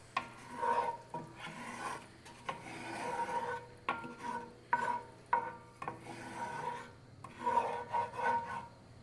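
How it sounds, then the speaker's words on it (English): A spatula rasps repeatedly across the bottom of a cast iron pan holding a cream pan sauce for seared New York strip steaks, in short close scraping strokes. "Just scrape up any bits on the bottom of your pan."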